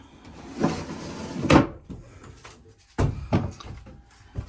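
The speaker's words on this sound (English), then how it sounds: "Hanging storage. Lots of drawers and whatnot." Wooden drawers on a Gemini 30-foot catamaran slide and thump shut several times, sharp close knocks separated by brief quiet gaps.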